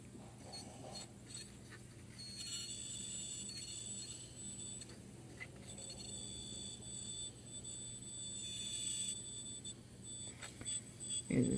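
An alarm clock's detached buzzer sounds when a metal wire is moved into position to complete its circuit, giving a steady, low electric buzz that runs continuously under a noisy background.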